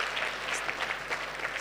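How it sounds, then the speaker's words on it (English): A group claps hands together in a dense, steady burst, with close and distinct individual claps during a wellness session. "Clap hand."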